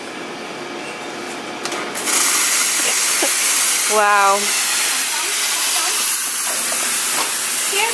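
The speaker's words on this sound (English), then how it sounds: "Fancy schmancy espresso machine." A home espresso machine hisses loudly with a sustained steaming sound, joined by a brief rattling burst mid-way, while a person briefly exclaims nearby.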